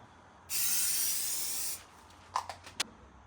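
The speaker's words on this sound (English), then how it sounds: "I'm going to do CA glue and activator on there and stick it on." A steady, loud hiss of CA glue activator sprayed from an aerosol can in a woodworking shop lasts about a second, followed by a few faint clicks.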